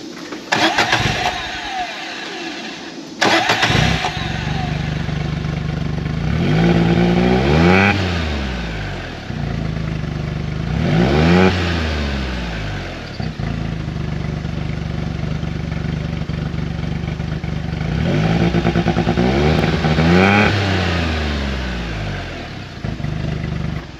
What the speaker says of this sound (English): taking her down the road and running the crap out of it, it's still got that missing sound in it